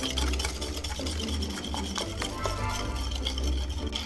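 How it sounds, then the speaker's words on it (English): A spoon or whisk stirs cream into an egg yolk mixture for creme brulee, giving a steady soft swishing and scraping against the bowl, close and continuous with faint clinks. "While stirring, slowly add in your cream, a little bit at a time, so as not to scramble the egg yolks."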